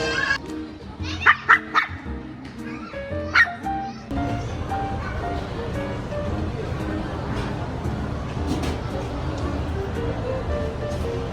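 A freshly groomed dog left outside a restaurant gives a few short, close barks and yips in the opening seconds, with people talking nearby, then a steady murmur of crowd and ambient noise takes over.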